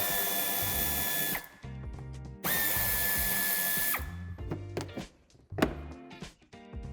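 A power tool removes a 10 mm bumper corner screw on a 2019 Opel Vivaro C, two loud close whirring runs of about a second and a half each, then a short burst and clanks of parts being handled.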